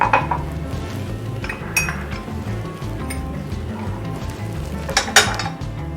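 A cooked, cooled herbal kadha decoction is strained into a cup, with sharp metallic clinks and taps of strainer and utensils against the cup over a soft, faint background hiss.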